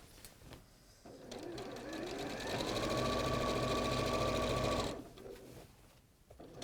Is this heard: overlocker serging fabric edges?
yes